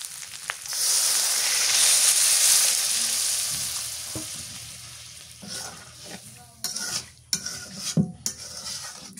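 Water poured into a pan of sizzling broiler chicken curry sends up a loud hissing surge that slowly fades, followed by scattered clinks and scrapes of stirring, with no voices.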